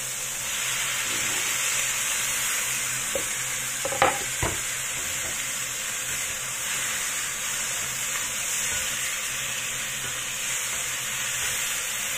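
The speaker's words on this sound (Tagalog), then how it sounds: "Ngayon, ilagay ko na rin ang beef." Beef frying in a pan for curry, a loud constant sizzle with a few scraping stirs partway through, no voices.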